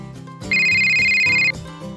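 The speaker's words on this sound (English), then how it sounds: "Oh, now there goes my phone." A telephone rings once with a bright, steady electronic bell tone lasting about a second, loud and close over faint background music or room sound; no one speaks.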